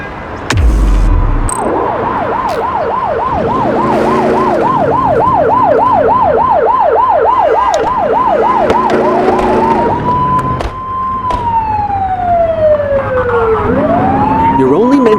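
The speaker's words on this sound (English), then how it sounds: "You're only meant to use the siren in emergencies." A police car siren in the video game The Precinct wails loud and close in a fast, steady rising-and-falling yelp. It then shifts to a slower sweeping wail over engine and road noise.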